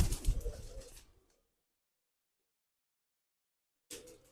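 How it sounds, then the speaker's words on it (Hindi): Pigeons coo close by in a brief burst, then silence follows before another short burst of cooing. "ये मेरे 6 कबूतर"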